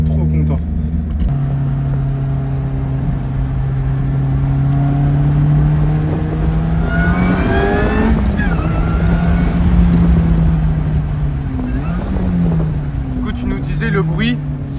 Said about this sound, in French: C'est la valve de dérivation en fait par rapport à la pression du compresseur qui décharge à plus d'un bar